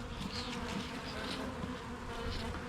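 Small honeybee swarm buzzing close by, a soft continuous hum with shifting, wavering drones of individual bees, faint and steady with no voices.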